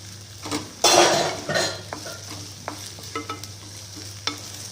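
A spoon stirs chopped green beans, carrot, potato and peas in a pan for a Gujarati cabbage mix shaak, with a loud scrape and clatter at first, then scattered metallic taps and light sizzling over a steady hum.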